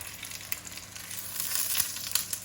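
Dauphinoise potatoes frying face down in a pan, giving a steady, close hiss and crackling sizzle with small pops scattered through it.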